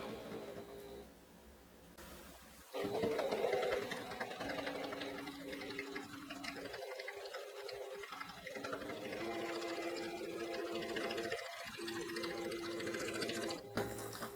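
A sewing machine chain pieces fabric pieces for a microwavable bowl cozy, running in steady close bursts with short pauses between, a voice talking over it at times.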